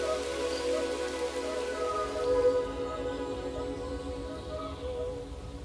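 Storm rain falling in northern Guangdong woodland around a white-eared night heron nest, a steady, even patter with a sustained tonal layer beneath, no voices.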